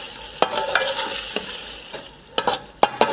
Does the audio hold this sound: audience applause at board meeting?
no